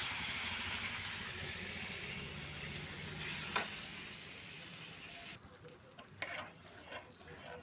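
Hot oil left over from frying fish, with sizzling and crackling at first, then the frying noise drops away and a few clinks and taps follow.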